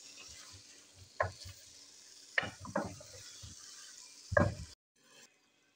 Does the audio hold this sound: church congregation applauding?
no